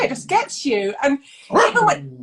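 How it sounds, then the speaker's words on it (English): A dog barks and yips from the background while a person talks over it on a video call, the barking mixed in with the speech. "oh, sorry, that is the dog."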